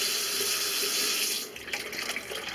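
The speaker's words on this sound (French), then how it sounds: "vous allez voir l'eau couler." Water runs steadily down into the siphon of a kitchen or bathroom sink drain being unclogged, a close, continuous rushing flow that eases and turns more uneven partway through.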